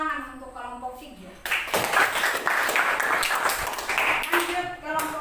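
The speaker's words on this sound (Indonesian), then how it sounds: "Tepuk tangan untuk kelompok 3" A classroom group breaks into applause for group 3: a burst of hand clapping rises abruptly after a voice, holds for several seconds, then fades as talk resumes.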